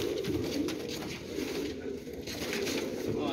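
Pigeons coo nearby in a low, steady murmur over a soft, noisy background, with no voices.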